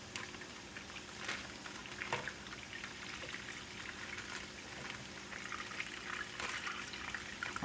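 Soaking water drains from a container of cut potato steak fries, a faint, steady trickle and splash of pouring liquid with a few louder clunks of the container.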